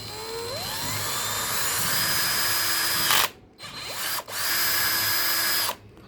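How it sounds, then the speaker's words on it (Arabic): An electric drill fitted with an 8 mm bit bores a hole through the housing of an LED bulb, whining loudly at a steady pitch in two long runs separated by brief pauses, close and with no talk. "هعمل عندي ثقب في المكان اللي علمناه دهوت بالدريل كده اهوت."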